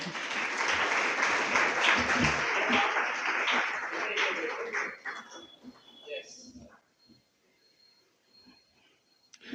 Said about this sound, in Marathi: मॅडमसाठी एकदा जोरदार टाळ्या.